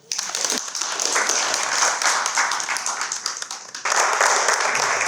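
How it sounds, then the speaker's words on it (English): Conference audience clapping for themselves, close and crisp individual claps blending into a lively, uneven roar that dips briefly then surges back louder near the end. "Clap for yourself."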